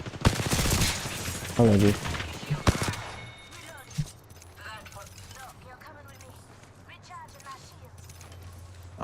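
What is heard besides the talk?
gunfire shooting at a fence in a video game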